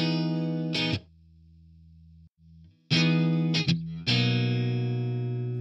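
Stratocaster electric guitar played through a Marshall amp plugin with distortion: sustained, heavily overdriven chords ring out in several bursts with a brief near-silent gap, loud and close with no voices.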